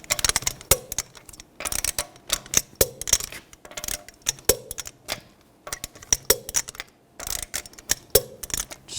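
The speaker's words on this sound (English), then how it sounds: "Now we're going to torque the lug nuts to 90 foot-pounds in a cross pattern" A torque wrench tightens the lug nuts on a 2009-2010 BMW 535i xDrive rear wheel to 90 foot-pounds in a cross pattern; close ratcheting clicks come in short bursts separated by brief pauses.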